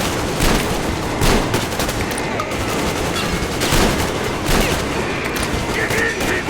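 Heavy gunfire from the video game Metro Exodus, including shotgun blasts, fills the scene loudly and continuously, with dense overlapping shots and booms and no voices.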